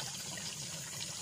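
Clear, cold spring water wells up out of the ground beside a river on a farm lot in Calauan, Laguna, a soft steady rush and trickle, faint and unbroken, with no voices.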